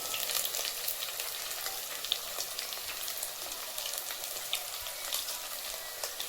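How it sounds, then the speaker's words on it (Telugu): Chicken curry masala with green chilies fries in a pan, giving a steady, close, crackling sizzle throughout with no voices. "పచ్చి వాసన పోయేదాకా ఫ్రై చేస్తాను"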